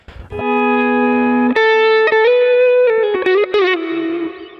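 Electric guitar on the neck pickup plays a soft, clean intro part with effects: sustained ringing notes and a few chord changes with light reverb and chorus, steady and close throughout with no voices.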